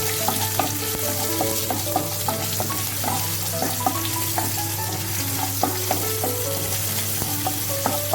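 Green chillies frying in a pan while being stirred, a steady loud sizzle with repeated scraping and clinking of the spoon against the pan throughout, no voices.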